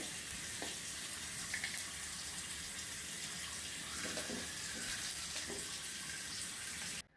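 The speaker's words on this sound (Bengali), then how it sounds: "এখন পাশে কাঁচামরিচ ভাজা হচ্ছে" Green chilies frying in oil in a pan beside fried shrimp, giving a steady, even hiss of sizzling with a few soft pops, close by and alone until it cuts off abruptly.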